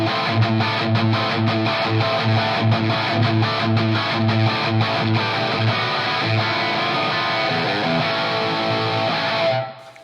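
Heavily distorted electric guitar played through the TONEX 1980 Brown Sound amp, a Marshall plexi-style tone, chugs out a loud, continuous rhythmic riff that rings out and cuts off abruptly at the end.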